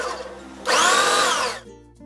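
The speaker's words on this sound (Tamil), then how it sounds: "மிக்ஸி ஜாரில் போடுறீங்க அப்படின்னா பல்சில் விட்டு 2 செகண்ட் மட்டும் அரைச்சி எடுத்துக்கோங்க" A mixer grinder pulses boneless chicken into mince with one short, loud whirring burst of about a second, starting abruptly and cutting off, with quieter kitchen hum before and after.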